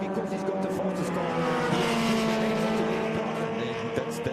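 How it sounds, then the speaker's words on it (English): A Porsche 969 race car in Martini livery racing in a legends race, a loud, sustained engine howl with shifting pitch and a hint of tyre squeal, mixed with other cars and a faint commentary voice. "Great looking Porsche, the 969 Martini Livered Porsche there."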